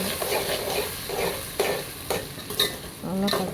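Tomatoes and green chillies stir-fried in a pan for a sardine curry, a continuous sizzle broken by repeated spoon scrapes and stirring clatters close by, with no talking.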